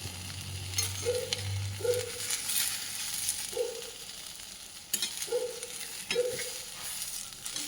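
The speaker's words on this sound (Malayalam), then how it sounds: "2 വെളുത്തുള്ളി, ഒരു കഷ്ണം ഇഞ്ചി വേണം. അതിതൊന്ന് മൂക്കട്ടെ." Garlic, ginger and green chillies fry in a pan for a chutney, a soft steady sizzle broken by several brief stirring scrapes at roughly even intervals, close and fairly quiet.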